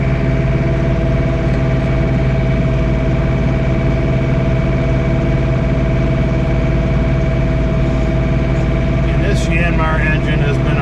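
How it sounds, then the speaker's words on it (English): A John Deere 3 Series compact tractor with a Yanmar diesel runs at about 2,300 RPM while snowblowing, giving a loud, steady, unbroken drone close by; a brief higher-pitched noise rises near the end. "Yanmar engine has been outstanding."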